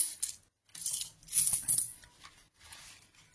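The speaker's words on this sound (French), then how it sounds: "On va vider l'enveloppe monnaie parce qu'il y a pas mal de choses" Coins are emptied out of a cash budget envelope, spilling in several bursts of bright jingling clinks close by, with short pauses between pours.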